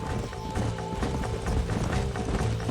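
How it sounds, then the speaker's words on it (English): Horses galloping in the Western video game Red Dead Redemption, a steady drumming of hooves with a faint whinny, loud and continuous under a busy game soundtrack. "There's the horses!"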